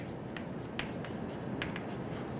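A lecturer writes an aerodynamics equation on a board, with a few short, close scratching strokes of chalk or marker over a steady background hum, no talking.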